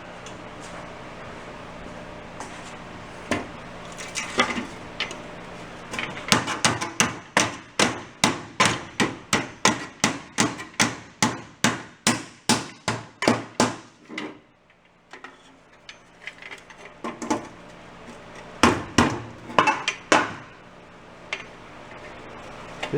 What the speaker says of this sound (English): Let's go beat it with a hammer.